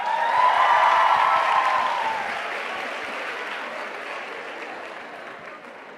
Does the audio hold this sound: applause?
yes